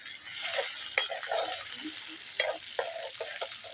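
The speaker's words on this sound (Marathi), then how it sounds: "कांदा थोडासा लालसर होईपर्यंत आपण त्याला परतून घ्यायचा आहे।" Onion fries in oil with cumin and curry leaves, a soft steady sizzle broken by scraping stirs of a spatula against the pan.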